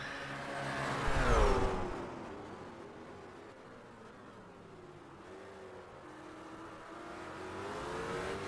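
GT race cars in a sim racing game at Road America: a loud engine sweeps past near the start, followed by a quieter, steady drone of cars that swells slightly at the end, with no voices.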